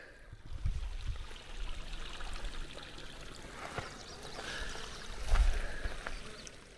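A mountain stream runs through a hollow in a low, steady wash of water, with a couple of louder rumbling surges near the start and again toward the end.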